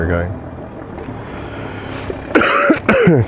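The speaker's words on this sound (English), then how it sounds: "Excuse my cough, guys." Two harsh coughs burst out close by near the end, after a stretch of quiet background noise with a brief voice at the start.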